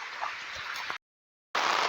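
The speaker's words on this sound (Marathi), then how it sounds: "पाऊस आलाय जोरात मोठा आलाय पाऊस" Heavy rain pours down as a loud, steady hiss, broken by a short silent gap before the downpour resumes just as strongly.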